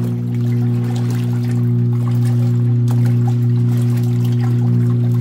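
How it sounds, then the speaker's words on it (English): Steady churning water sloshing and splashing out of a running vintage washing machine, with a constant low motor hum throughout. "we got some water splashing out of there"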